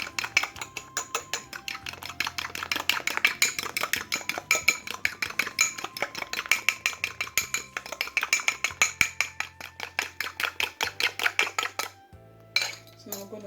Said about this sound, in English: It's really important you mix your sugar with liquid to enable your sugar to dissolve quickly.